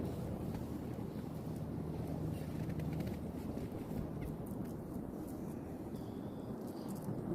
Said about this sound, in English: This loud noise right now is the airplane